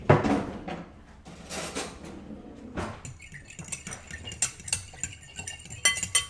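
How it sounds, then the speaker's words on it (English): Whisk beating a topping in a bowl for stuffed squash and maple roasted Brussels sprouts, a run of quick close metallic clinks and scrapes that grow busier and louder toward the end. "Let me whisk it."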